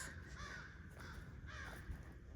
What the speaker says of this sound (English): listening to the birds in a different way